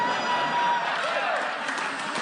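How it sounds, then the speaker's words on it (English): Audience applause at a live comedy podcast taping, a broad moderate wash of clapping from a crowd, steady and slightly fading, with a voice faintly over it. "I know forced applause when I hear it"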